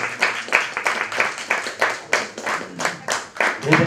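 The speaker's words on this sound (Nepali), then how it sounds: "समीर म्याजी हो अवार्ड लिनको लागि जोड ताली" An audience at the Spiny Babbler International Film Festival 2022 award ceremony claps in a rhythmic pattern, roughly two beats per second, loud and close, as a winner comes up to take the award.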